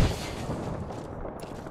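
Gunfire from a combat video game, a dense continuous rattle of shots with no clear gaps, loud and rumbling throughout, with no voices.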